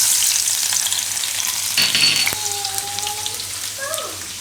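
Fenugreek seeds and garlic sizzle in hot oil in a home kitchen, a steady close crackle with a brief clink of a utensil and small stirring noises.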